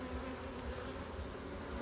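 A dense, continuous drone of many honey bees buzzing close by around a queen in an open hive, steady and unbroken throughout.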